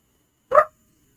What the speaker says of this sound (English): He heard a noise out here. Now he's barking.